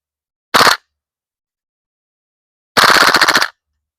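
An APFG MPX K airsoft gas gun fires, first a short sharp burst and then, after a pause, a longer rapid rattling string of shots that stops abruptly, loud and close.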